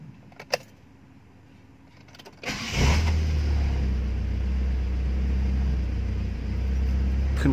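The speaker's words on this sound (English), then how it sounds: "Off engine, and we test start once again." A carbureted Proton Wira with a newly overhauled distributor is restarted. After a faint key click comes a short crank, and the engine catches into a strong, steady, close-up idle rumble that holds to the end.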